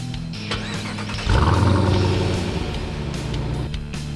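A 2018 Jeep Grand Cherokee Trackhawk 4x4 SUV starts up close by. The starter catches, the engine flares into a loud rev, and then it settles into a rumbling idle, with no talking.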